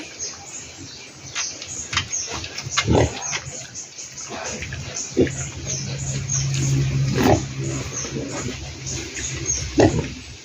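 Pigs aged 45 days grunt and squeal in a pen, loud and close, with irregular bursts of calls and one longer squeal midway over a steady background of rustling and shuffling.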